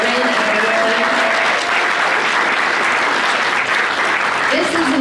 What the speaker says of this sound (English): So can we have a round of applause for Corinne and everyone?